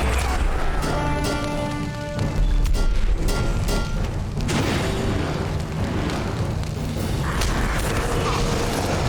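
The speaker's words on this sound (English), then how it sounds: "It seems all goblins in here are throwing bombs at us." Goblin bombs bursting during a Lord of the Rings Online battle, loud booms and blasts piling up densely over a constant clamor of combat effects, with no quiet gaps.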